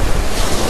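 Ocean surf at Virginia Beach washes up the shore in a loud, close, continuous rush of breaking water mixed with wind noise, with no voices.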